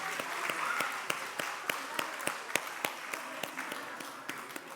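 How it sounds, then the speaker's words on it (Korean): A church congregation at a Korean Parents' Day Sunday service claps in a steady rhythmic beat, distinct sharp claps over a softer bed of hands, with some murmured voices underneath. "우리 다시 한번 박수 한번 하시겠습니다"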